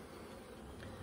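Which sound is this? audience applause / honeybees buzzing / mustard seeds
honeybees buzzing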